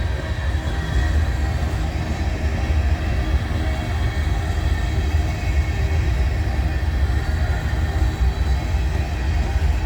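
A southbound manifest freight train with covered grain hoppers and distributed power rolls past close by, a loud, steady rumble of wheels and cars clattering continuously without break.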